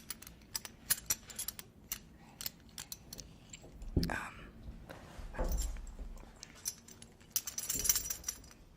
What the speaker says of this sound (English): when you hear them chomping on the bit, it like sounds like this